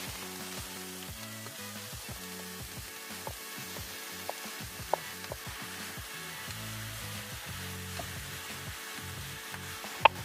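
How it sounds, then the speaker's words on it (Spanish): Vegetables browning in a very hot frying pan give a steady, continuous sizzle for the whole stretch, with occasional small crackles and light scrapes over it; no talking. "Vamos a empezar dorando las verduras."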